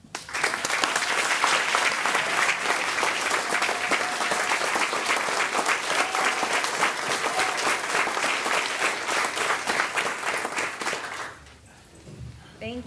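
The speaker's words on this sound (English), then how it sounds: "thank you for your applause" A roomful of people at a school board meeting applaud after an approved motion, dense steady clapping lasting around eleven seconds before cutting off abruptly into quiet room noise.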